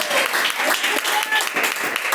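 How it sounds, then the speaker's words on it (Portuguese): A church congregation at a live service claps their hands in a loud, dense burst of applause, with voices mixed in. "só quem crê bate palmas e glorifica o nome de Deus"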